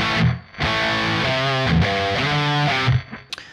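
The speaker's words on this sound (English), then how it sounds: "I want to engage my spring reverb." Electric guitar played through a Kemper profiling amp with spring reverb engaged, a few distorted chords ringing out with sustained tails and brief gaps between strums, loud and close.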